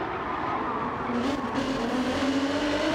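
Alfa 155 touring cars racing down a mountain section in Gran Turismo 7, a steady loud engine drone with a faint rising whine, continuous and without speech.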